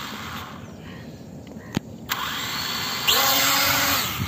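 An E88 camera drone lifts off and flies, its small motors producing a steady high-pitched whine that rises sharply in pitch as it takes off, with a couple of brief clicks beforehand and no talking.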